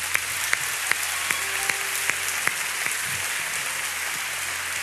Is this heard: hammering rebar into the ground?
no